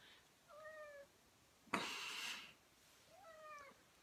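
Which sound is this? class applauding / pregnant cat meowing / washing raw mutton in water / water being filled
pregnant cat meowing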